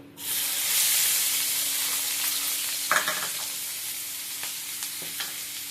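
Onions hit hot oil with a sudden loud hiss that settles into a steady sizzle, punctuated by a few stirring scrapes, with no talk.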